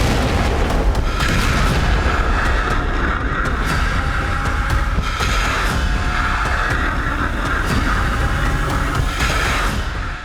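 Iranian Fateh 2 missile test launch: a loud, sustained roaring blast with booming low rumble that holds steady throughout, continuous and unbroken with no speech.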